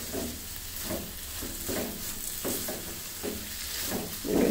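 Grated carrot halwa being stirred and scraped in a pan over heat until it dries out, with repeated scraping strokes over a soft, steady sizzle, close up and with no talking.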